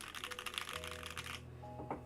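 Rapid clicking of a computer keyboard being typed on, close and quiet, a dense burst of keystrokes that stops partway, with a faint voice near the end.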